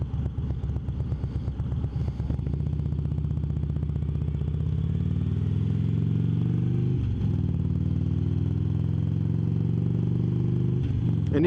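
A Harley-Davidson Road Glide Ultra with a Twin Cam engine rumbles along while being ridden, its deep, steady engine drone climbing in pitch as it accelerates, then holding a loud, even cruise with brief dips at gear changes.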